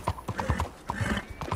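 Quick, close hoofbeats of a horse in Red Dead Online patter in an even rhythm, with a faint whinny mixed in.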